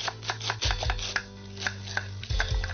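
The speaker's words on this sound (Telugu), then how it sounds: "సన్న కట్ చేయి, సన్నగరా." A knife chops carrot and onion thinly on a cutting board, producing a quick series of close, crisp taps in an uneven rhythm with short pauses.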